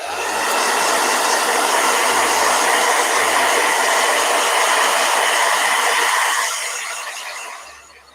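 A blow dryer runs loudly and steadily for about six seconds, a dense whooshing roar with a faint rattling edge, then winds down and fades as it is switched off, with no voices.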